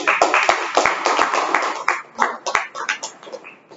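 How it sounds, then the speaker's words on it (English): Applause at a Toastmasters meeting from a small audience, a few loud distinct claps at first, then a looser patter of hand claps that thins out toward the end. "Everybody please give a huge round of applause to Toastmaster Jagadish and all the evaluators and the note takers who came on stage"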